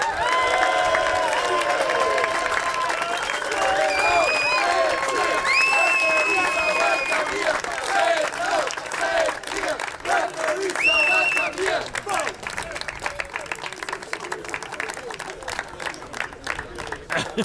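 An audience at a blind football tournament applauds the referees, with sustained clapping and some cheering and shouts, gradually thinning toward the end.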